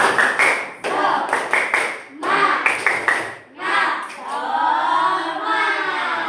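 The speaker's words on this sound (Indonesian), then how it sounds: "Oke, tepuk semangat." A classroom of children performs the rhythmic spirit clap, quick bursts of group handclaps in patterned groups mixed with chanting voices, then voices carry on loudly after the clapping ends.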